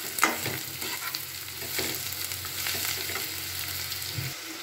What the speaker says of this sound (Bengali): আলুগুলোকে একটু আবার নাড়াচাড়া করে নিচ্ছি